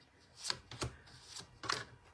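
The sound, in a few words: shuffling oracle cards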